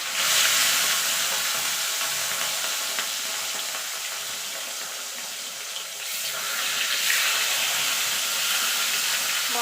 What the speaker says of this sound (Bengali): এইভাবে বাকি মাছগুলো আমি ভেজে নেব।